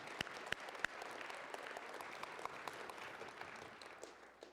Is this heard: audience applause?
yes